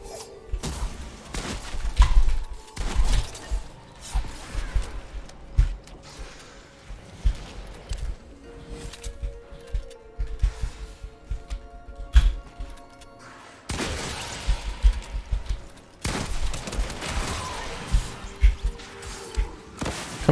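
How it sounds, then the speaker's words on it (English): Rapid bursts of drum gun fire in Fortnite Battle Royale, clattering volleys of sharp shots and impacts that come in uneven clusters throughout, loud and close with brief pauses between bursts. "Who has this drum gun?"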